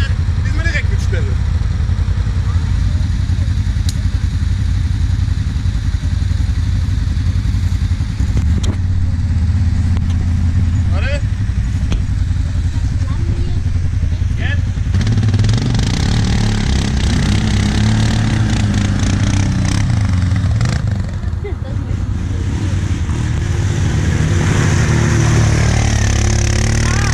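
Several ATVs, including a Kymco MXU 700, a Can-Am Renegade 800R XXC and a Suzuki KingQuad 700, churn through mud at a family event, engines droning and revving loudly and steadily throughout, with people talking over the noise.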